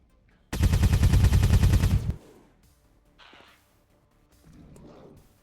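In XCOM 2 with the Long War of the Chosen mod, a rifle fires a loud, rapid burst of repeated cracks for about a second and a half, then fades into quiet game ambience with faint later effects.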